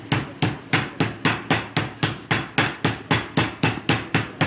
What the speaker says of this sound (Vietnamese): để làm cho nó mềm ra thì chúng ta sẽ phải sử dụng búa dần